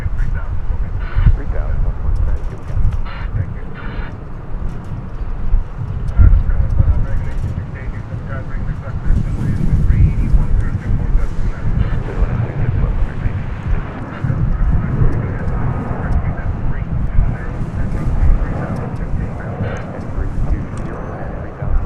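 A Delta airliner at DFW Airport rumbles low and steady in the evening, a broad engine roar with wind buffeting the microphone, while a person talks over it intermittently.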